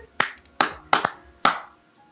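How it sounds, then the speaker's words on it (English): A handful of Australian-style hand claps: four sharp, close, crisp smacks at uneven spacing, with one quick double, each ringing briefly in an otherwise quiet room. "I think there's a clap that's like slightly different here"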